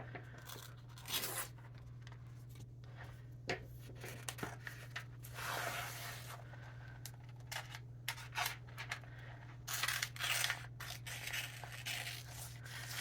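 Scissors cutting out magazine pages with bursts of snipping and paper rustle, some tearing and crinkling, close and fairly quiet, with pauses between cuts and a low steady hum underneath.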